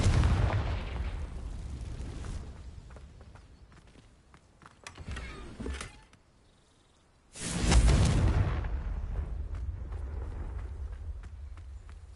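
A Confringo fire spell in Hogwarts Legacy goes off as a loud, sudden blast of noise that swells and then trails off. It follows a quieter stretch with a brief gap.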